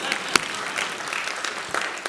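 Scattered claps come from an audience at a talk on Ontario's manufacturing: a few sharp, separate hand claps spread unevenly over a soft room background, not full applause.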